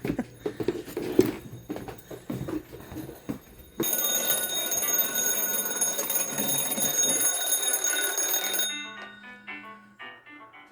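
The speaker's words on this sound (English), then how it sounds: "did you not hear your alarm clock?" An alarm clock rings loudly with a continuous bright electronic beeping for several seconds, then cuts off, after some rustling and handling noise beforehand.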